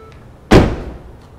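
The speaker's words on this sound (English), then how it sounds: "Let me actually shut the door." The sliding side door of a 2014 Ford Transit van shuts with one loud, close slam, a solid thunk that rings briefly and decays within half a second, with quiet before it.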